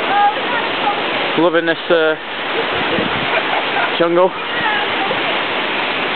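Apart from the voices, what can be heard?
jungle waterfall in Luang Prabang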